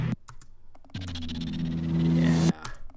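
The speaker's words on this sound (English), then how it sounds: "It has these sound effects that are some choppy sound effects like this." Choppy trailer-hit sound effects from the Motion Pulse trailer hits collection: a short pulse, then a dense strobing, buzzing hit with a steady low drone that runs about a second and a half and cuts off abruptly, followed by brief stutters.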